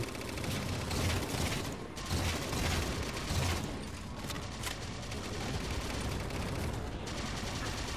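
Sustained gunfire aimed at the player in Halo 4 on Legendary difficulty: dense, continuous bursts of automatic fire and impacts crackling throughout without pause, loud and close, with no talk over it.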